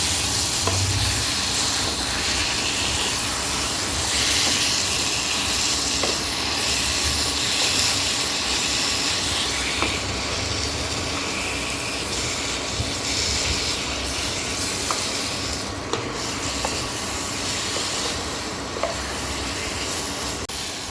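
Boiled taro and its water are stirred in a pan, with a loud, continuous bubbling sizzle that fills the whole stretch and faint occasional scrapes beneath it.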